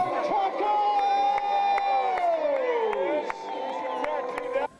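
Crowd at a minor-league baseball game cheering after a 9-6 Mavericks victory, with sustained whoops and shouts under a steady, loud roar while a public-address announcer talks over it.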